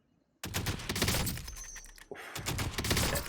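Heavy sniper rifle fire in Warzone 2.0 opens abruptly with a loud booming blast and a rumbling tail, then a second powerful shot follows about a second and a half later, close and forceful.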